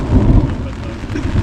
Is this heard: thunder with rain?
yes